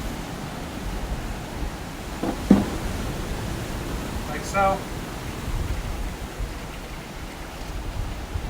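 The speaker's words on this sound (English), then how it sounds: "I have a colander and I've got a big bowl. Drain my pasta." Cooked pasta water poured through a colander into a big bowl, a steady broad rush of draining water throughout, with a brief voice speaking partway.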